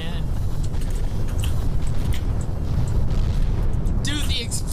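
Explosions go off in a train-building video game. Loud, continuous, rumbling bursts stack up one after another, filling the whole clip, with a voice briefly heard near the end.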